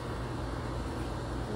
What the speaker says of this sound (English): I apologize for the noise, but we're right next to the air conditioner.